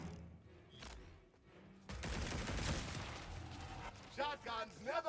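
Shotgun fire in the video game Cross-Fire crashes out in a dense burst of loud blasts and mechanical clatter, with a voice speaking over the end.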